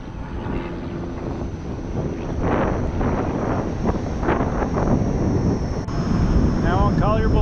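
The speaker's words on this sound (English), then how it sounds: "So far I've had a lot of headwind both directions" Steady headwind roars and buffets the microphone while riding a Gotway Monster electric unicycle along a road, a loud continuous rush that swells at moments, with a voice briefly audible under it.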